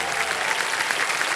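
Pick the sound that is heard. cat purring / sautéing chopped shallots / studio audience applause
studio audience applause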